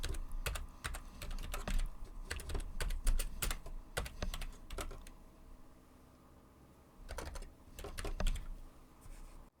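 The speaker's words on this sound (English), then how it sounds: "In the header cell, I'm going to type conversion charts." Fingers type on a computer keyboard in quick bursts of close, crisp key clicks, with a pause in the middle and then a final short flurry.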